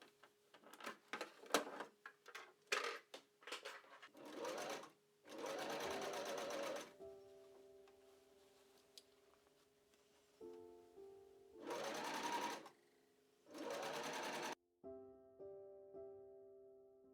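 A sewing machine stitches a Regency dress in goth style, running in several loud sustained whirring bursts separated by pauses, with handling clicks and a steady hum in between.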